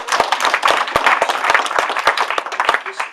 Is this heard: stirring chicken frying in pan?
no